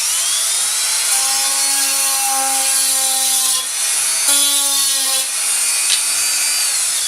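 A power tool bevels the edge of blue Styrofoam foam with a steady, loud, high-pitched motor whine. The pitch dips briefly a few times as the tool bites into the foam, and nobody speaks.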